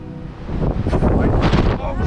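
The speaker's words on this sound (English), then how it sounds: "And again, the wind increases in ferocity." Strong gusting wind at a cliff edge at an ancient stone fortress on the Aran Islands, loud roaring buffets battering the microphone in close, continuous surges.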